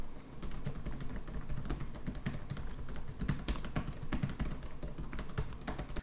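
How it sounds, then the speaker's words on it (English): Fast, uneven clacking of keys on an MSI GL62M gaming laptop keyboard, a dense stream of close, crisp keystrokes lasting the whole stretch. "let's go ahead and give this keyboard a quick field test"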